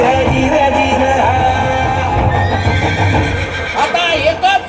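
Horses whinny and neigh over a steady rumble of hoofbeats in a loud battle-style sound effect for a Marathi primary school performance about warriors riding through the Sahyadri hills, with voices mixed in throughout.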